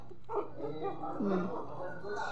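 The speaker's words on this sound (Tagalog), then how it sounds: "Mga tuta yan ni Mika." Puppies whimper and yip softly in short, wavering cries close by over a quiet background.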